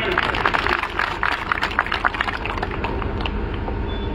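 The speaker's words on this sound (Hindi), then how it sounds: "जोरदार तालियां।" Loud, sustained audience clapping at a political honouring event. A thick wash of many hands is strongest at the start, then settles into an even roar that holds to the end.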